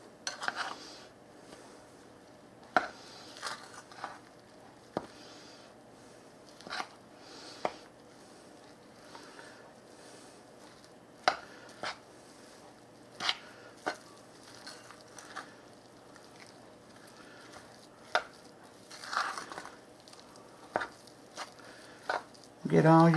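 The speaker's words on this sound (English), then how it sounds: "I'm going to get this stirred in" Bisquick biscuit mix being stirred with milk in a bowl, sporadic spoon taps and clinks against the bowl over soft wet scraping, close and quiet, with a voice talking intermittently.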